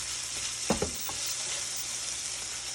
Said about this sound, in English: we're stirring up the sausage to get it to brown